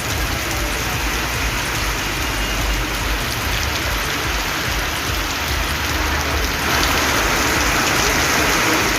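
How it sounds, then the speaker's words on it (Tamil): Heavy rain falls in Tiruvarur district, Tamil Nadu, as a loud, continuous hiss of drops on surfaces that stays dense and steady throughout, with no one speaking. "திருவாரூர் மாவட்டத்தில் சேந்தமங்கலம், விளமல், வண்டாம்பாளை உள்ளிட்ட பகுதிகளில் கனமழை பெய்தது."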